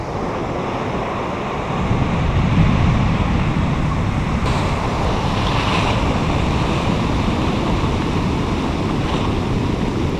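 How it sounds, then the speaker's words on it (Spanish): Surf rolls onto a beach at Ixtapa at low tide, a continuous loud roar of waves with wind buffeting the microphone and no voices heard. "Ven las olas."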